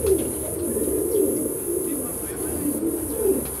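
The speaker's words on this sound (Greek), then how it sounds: "Πολύ περιστράδες θέλανε να δούνε του Σωτήρη τα πουλιά" Domestic pigeons cooing in a pigeon loft belonging to a Veria pigeon fanciers' club, with soft, repeated low coos rising and falling at a steady, moderate volume and close by.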